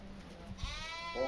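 Sheep bleat in short bursts while a working sheepdog named Fizz moves them on a farm in New Zealand, the calls fairly faint and brief against open-air background noise.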